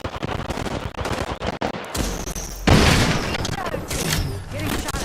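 Rapid automatic gunfire from the video game Apex Legends rattles in dense bursts, joined by a heavier blast and sustained crackling, loud and close throughout.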